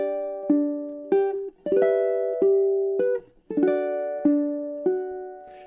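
Ukulele plucking bars 17 to 20 of Chopin's Nocturne Op. 9 No. 2: clean, bright single notes and small chords struck one at a time at a gentle, lilting pace, each ringing and decaying, close and alone with no talk.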